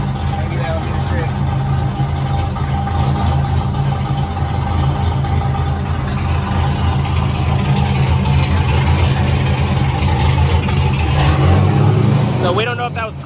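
An LS-swapped Nissan 350z runs under load on a dyno, its V8 engine droning loud and steady for the whole stretch, rising toward the end before cutting off sharply, with voices faintly beneath.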